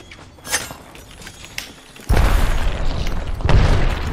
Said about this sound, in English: Nade in my feet.